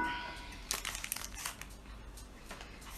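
Hot baking paper crinkles and rustles up close in a run of uneven crackles and crumpling bursts as it is pulled from under a freshly baked oat and banana cake.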